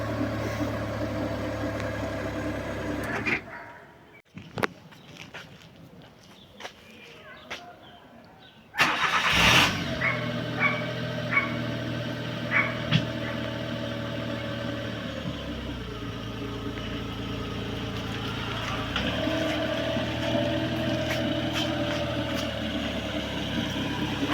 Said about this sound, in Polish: No to co, chyba pora zrobić dłuższą jazdę testową, co nie?